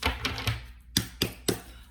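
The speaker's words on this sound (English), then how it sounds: "one more shuffle here" Tarot cards are shuffled by hand, giving a series of crisp papery slaps and riffles, about six distinct bursts close by with short pauses between them.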